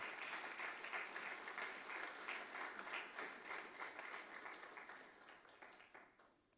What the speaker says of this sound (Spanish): Dios merece que usted le dé un aplauso muy fuerte